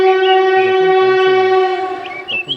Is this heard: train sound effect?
yes